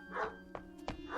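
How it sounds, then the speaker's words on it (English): A collie barking as a radio drama sound effect: two or three short, sharp barks and yips ring out close and clear within about a second, with no voices over them. "That's Bill Soames's collie."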